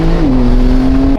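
A tuned Porsche 992 engine revs hard and fast, its tone stepping up quickly and then holding a strong, steady high pitch, loud and close, before cutting off abruptly.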